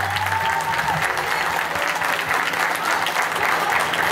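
A large outdoor crowd at a Christian march-for-Jesus event claps loudly and steadily, a dense continuous wash of applause with a faint tonal hum early on.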